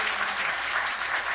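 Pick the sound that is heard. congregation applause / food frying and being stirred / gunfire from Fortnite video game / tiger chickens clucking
congregation applause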